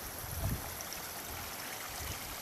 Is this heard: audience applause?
no